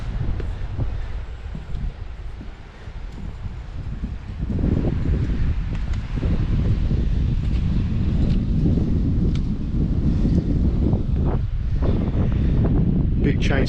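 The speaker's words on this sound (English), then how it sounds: "So as you can hear, it's a bit windy" Wind buffeting the deck of a 1970 Powles 33 Sportsman boat, a loud, rough, continuous rush that strengthens partway through, with a person speaking underneath.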